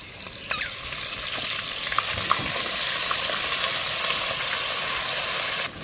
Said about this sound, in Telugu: అల్లం వెల్లిగడ్డ జర బ్రౌన్ కలర్ రావాలి, కొంచెం ఫ్రై కావాలి.